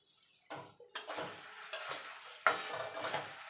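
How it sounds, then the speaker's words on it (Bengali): Spiced potatoes are stirred in a pan, several distinct scraping strokes with a soft sizzle underneath, intermittent and close, separated by short pauses, no talking. "ভালো করে নাড়াচাড়া করে নেব।"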